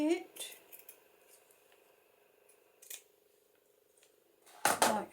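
Scissors trim a paper tag in a few quick, crisp snips close to the microphone, with a person speaking over the first cuts. A louder clatter of handling comes near the end.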